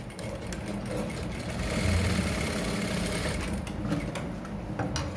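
A sewing machine stitches a single welt pocket, its steady rapid mechanical whir running continuously at close range and moderate volume, swelling slightly in the middle before easing off.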